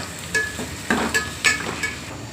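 Butter chicken with salt and cashews is stirred in a pan, producing several quick, rhythmic utensil scrapes and light knocks over a faint frying sizzle, with no talking.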